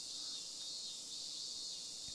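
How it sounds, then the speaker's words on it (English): Cicadas chirping in the video game Ame no Marginal, a dense continuous high-pitched buzzing drone that holds steady throughout with no voices. "Burning sunlight, the cries of cicadas."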